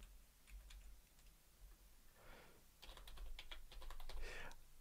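Username and password being typed on a computer keyboard, heard as quiet, uneven bursts of close key clicks that speed up into quick runs toward the end.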